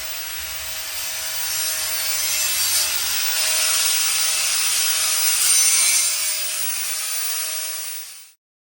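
Steady abrasive grinding on metal while a trailer is being welded and ground in a shop, a continuous rasping hiss lasting about eight seconds at an even loudness before cutting off abruptly.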